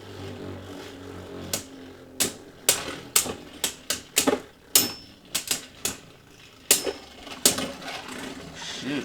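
A Beyblade Burst top, a Roar Bahamut combo set up in an attack-type configuration, spins and strikes inside a plastic stadium, producing a quick series of sharp clacking impacts, loud and close, at an uneven rhythm with no talk.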